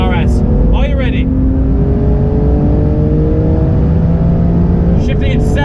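A Porsche GT2 RS accelerates hard down a wet straight, its engine droning loud and steady with rising tones through the gears, with bursts of speech from the driver over it.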